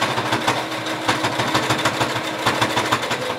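Steady rapid stitching of a sewing machine backstitching along a fabric face mask seam, a loud close mechanical whir with fast regular needle pulses and no speech.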